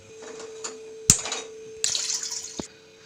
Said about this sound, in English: in this kadhai I will fill it with water till this level